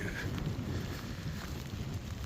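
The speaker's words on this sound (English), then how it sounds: "The wind is whipping." Steady wind rushes and buffets the microphone on a wet, cold stretch of the Appalachian Trail, a continuous low roar throughout with no one talking.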